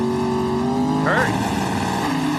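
A Top Fuel dragster launches hard off the line at the 1995 NHRA Winston Select Finals, a brief loud engine roar and rising rev over an excited commentator.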